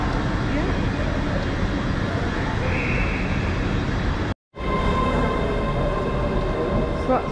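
A ScotRail class 385 electric train passes on the line in Edinburgh, a loud, steady broadband rush of wheels and motors with a brief break partway, while people talk over it.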